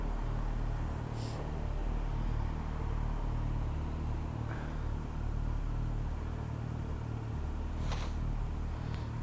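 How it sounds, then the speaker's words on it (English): A tractor engine gives a steady low rumble at moderate distance, with no pauses and a faint hiss on top. "There's a tractor over there, look."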